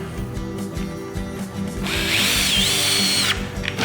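A Festool T-18 cordless drill in drill mode drives screws into wood: close motor whirring in short bursts, then a rising, wavering whine as a screw runs home, with no talk.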